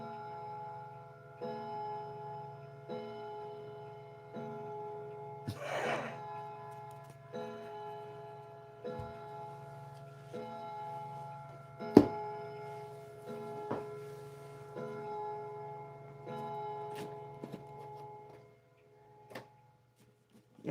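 A regulator clock ticks quietly at a steady, slow pace in a still room, with faint ringing tones and an occasional sharper knock between the ticks.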